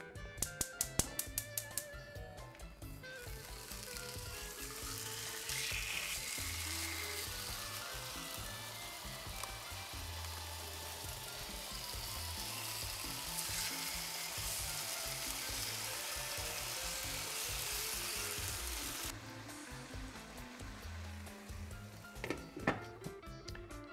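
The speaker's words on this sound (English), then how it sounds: "we're gonna take our steak and we're gonna fry it up in the pan" Marinated steak fries in a hot pan on a stovetop, giving a steady, dense sizzle that runs loud and close for most of the span, with a few sharp taps near the start and end and no talking.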